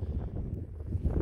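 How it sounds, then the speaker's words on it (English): Steady wind buffeting a microphone outdoors while metal detecting, a low, rumbling roar that stays loud and constant the whole time. "It's very windy."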